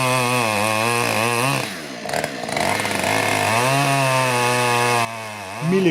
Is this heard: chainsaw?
yes